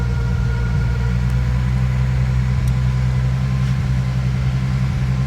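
A 1994 Nissan Skyline engine running just after a cold start, a loud steady low idle rumble, close and even throughout with no talk.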